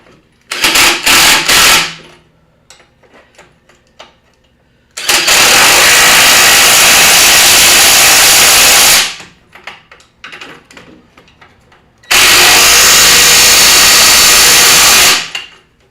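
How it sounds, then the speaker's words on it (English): A sway bar nut on a 2012 Ford Explorer is tightened with a 24mm socket while a 21mm wrench holds it. A short rattling burst comes first, then two loud, harsh mechanical bursts of about four seconds each, with quiet clinks between. "wheel over to tighten the sway bar nut. 21mm wrench right here. 24mm socket."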